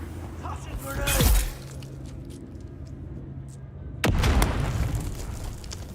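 In the game Dune Awakening, two grenade explosions land a few seconds apart. Each is a sharp, loud boom with a shattering burst and rumbling tail, and voices talk between them.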